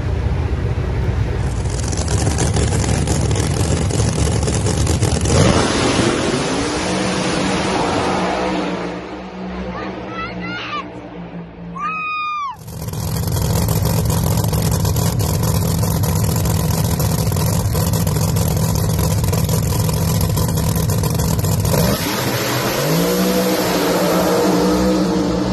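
Drag racing car launching hard down a Las Vegas track, a loud sustained engine roar that builds, cuts briefly, then returns as another loud pass, with speech mixed in.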